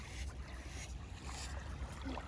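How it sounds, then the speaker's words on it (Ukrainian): Small waves lap on a sandy shore in a soft, continuous wash with gentle swells, faint and low, heard alone without voices. "сидіти і слухати оцей шум хвильки"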